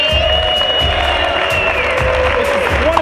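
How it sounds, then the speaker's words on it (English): Loud audience applause and cheering for a young man ahead of a Prod vs Nyjah skate game, a steady crowd roar with whistle-like tones and voices mixed in throughout. "Round of applause for this young man."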